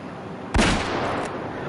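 A single loud rifle shot rings out close in the hunting video game Way of the Hunt, a sharp crack followed by a short decaying echo over a quiet outdoor background.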